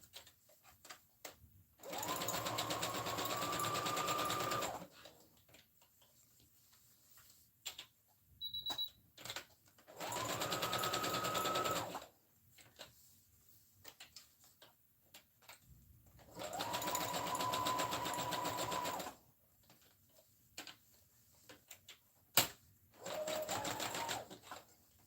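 A sewing machine runs back and forth across fabric to back-stitch an elastic seam. Loud, close bursts of rapid needle chatter last a few seconds each and are separated by quiet pauses. Small clicks and handling noises fall between the bursts.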